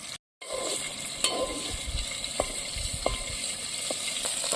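Dry fish frying in hot oil in a pan over a wood-fired stove, a steady soft sizzle with occasional pops and stirring clinks, close and fairly quiet, no talking.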